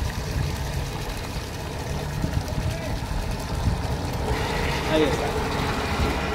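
Pressure equipment cuts in after the pressure falls from 40 to 20 pounds, its steady motorized hum swelling over an ongoing noisy background partway through, with a brief spoken phrase.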